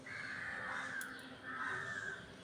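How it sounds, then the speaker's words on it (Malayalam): A crow caws in two drawn-out, rasping calls with a short gap between them, fairly distant and alone against a quiet background. "വേറെ കാക്ക."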